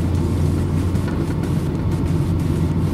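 A manual car's engine hums steadily at a low rumble from inside the cabin as the clutch is let out, a continuous close drone with little change in loudness over three seconds.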